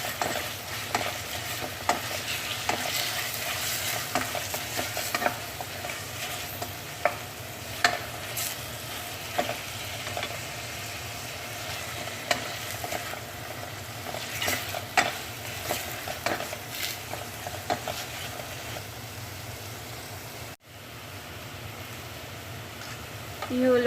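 Onions and garlic sautéing in a pan for creamy chicken stroganoff, a steady sizzle with repeated clicks and scrapes of stirring throughout, close and fairly loud.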